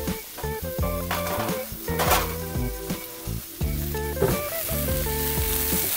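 Brussels sprouts sizzle steadily in a hot pan, a continuous bright frying hiss with a few clinks and scrapes of a utensil against the pan as they are turned.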